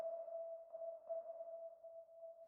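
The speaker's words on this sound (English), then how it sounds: "I'm going to put in a long reverb" A steady sustained piano tone rings on with a long, smooth reverb tail that lingers without fading much, alone and moderately loud.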